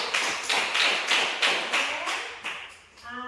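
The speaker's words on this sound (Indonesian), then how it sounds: "Tepuk tangan untuk kita semua dulu" A small group of children and a teacher clap in a classroom in short bursts of rhythmic patting, roughly two per second, close and fairly quiet, ending with a brief voice.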